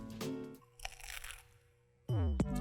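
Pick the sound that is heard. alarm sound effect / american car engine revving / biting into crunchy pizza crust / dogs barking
biting into crunchy pizza crust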